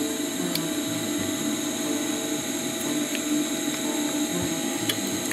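A sewing machine stitches 2.5 cm webbing onto 5 cm webbing for a DIY backpack, giving a steady, close mechanical whir with a dense rapid rhythm that runs unbroken for the whole stretch, with no voices.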